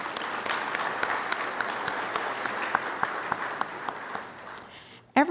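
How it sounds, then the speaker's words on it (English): An audience applauds steadily at the AMOS Conference 2017 keynote, a dense wash of clapping that fades toward the end before a brief louder burst. "Let's give them some applause."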